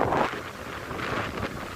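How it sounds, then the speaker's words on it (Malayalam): Strong wind at Mattool beach rushes and buffets steadily across the microphone, a loud, continuous blustery roar with gusty swells and no talk. "ഭയങ്കര കാറ്റല്ലേ"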